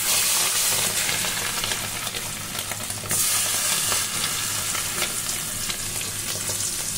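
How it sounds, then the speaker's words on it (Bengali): Fish roe frying in oil left over from frying fish heads and tails, a steady loud sizzle and crackle with occasional stirring, close up and continuous with no talk. "আমি এই তেলের ভিতরেই ডিম ভেজে নেব।"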